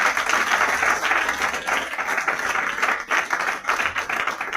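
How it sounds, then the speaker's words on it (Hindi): Loud, sustained applause from an audience at a motivational business seminar, a thick wash of many hands clapping steadily for several seconds with slight swells and dips, close and without talk. "एक बार जोरदार तालियां बजाइए सबके लिए"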